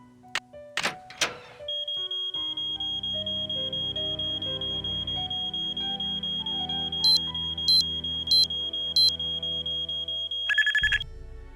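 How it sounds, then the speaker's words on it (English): Electronic alarm in a Nancy Drew mystery game: a steady high pulsing tone repeats rapidly for about nine seconds over a low hum, with brief louder bursts, ending abruptly after a few clicks and thuds. "he could probably still hear the alarm going off"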